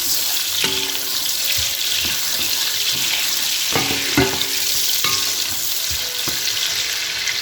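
Onions crackle and sizzle loudly in a hot pan, a constant close frying hiss broken by scattered clinks and stirring knocks.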